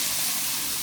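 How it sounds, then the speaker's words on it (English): Chicken frying in oil for a Sunday dinner, a steady broadband sizzle and hiss filling the short moment, close and even with no pauses. "The chicken is here frying."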